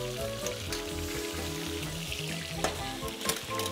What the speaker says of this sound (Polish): W drugim garnku skarmelizujemy miód.